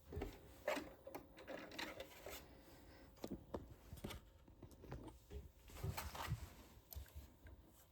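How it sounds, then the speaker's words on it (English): A sewing machine top stitches a zipper pouch at a 1/8-inch seam allowance in short, irregular bursts of quick stitching, quiet and close, with pauses and small clicks between runs. "we're gonna come back to the sewing machine and we're gonna top stitch right here"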